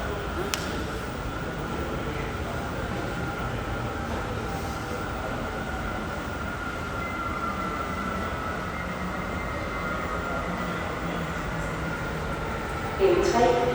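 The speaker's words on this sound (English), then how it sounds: "Anyway, here's the metro." A Copenhagen metro train pulls into a station with a steady rumbling roar and hiss that continues throughout, ending with a short louder burst at the end.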